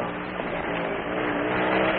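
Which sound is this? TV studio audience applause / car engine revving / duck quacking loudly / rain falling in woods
car engine revving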